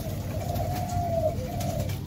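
A pigeon or dove gives a soft, low coo close by, one drawn-out throaty call followed by a shorter one, over a faint steady background hum.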